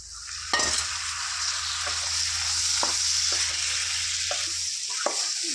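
Tomatoes are stirred into a sizzling gongura chicken curry, a bright steady frying hiss close by with a few sharp spoon scrapes and knocks against the pot, and no voices.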